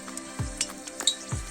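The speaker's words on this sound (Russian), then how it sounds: "Так, теперь закладываем картофель. Вот как он зашкварчал." Peeled potatoes drop into a hot oiled kazan over an open fire, sizzling loudly and close, with a couple of thumps as pieces land and light metallic clinks.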